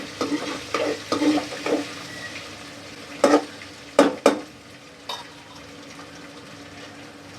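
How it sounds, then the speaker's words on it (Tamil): Ginger garlic paste and green chili being sautéed in a pan, a soft sizzle under repeated scraping and stirring strokes, with a few sharp metal clinks of a spoon against the pan. "நம்ம இஞ்சி பூண்டு பேஸ்ட்டு போட்டிருக்கோம், அது கூட பச்சை மிளகா போட்டிருக்கோம். கொஞ்சம் அந்த பச்சை வாசனை போகிற அளவுக்கு மட்டும் லைட்டாக வதக்கிக்கோங்க."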